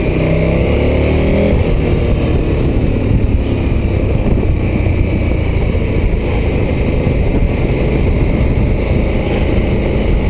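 A KTM 1290 Super Adventure S motorcycle engine droning steadily while riding on the road, loud and constant with heavy wind rush over the helmet.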